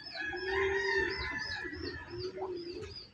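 A chicken clucks and calls close by, a drawn-out crowing-like cry followed by shorter clucks, alone with no talking.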